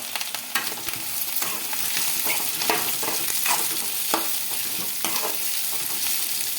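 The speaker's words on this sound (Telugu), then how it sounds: "నూనె చేసుకుని వేడైంది జీలకర్ర ఆవాలు అలాగే ఇలా పొడుగుగా కట్ చేసుకున్న ఆనియన్స్ అయితే వేసుకుంటున్నానండి" Cumin, mustard seeds and long-sliced onions fry in hot oil with a strong crackling sizzle, broken by repeated scraping stirs of a spoon against the pan, close and loud.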